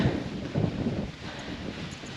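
Wind gusting across a hillside campsite on Caer Caradoc in the Shropshire Hills, a steady low buffeting roar with a stronger gust early on, heard alone at close range.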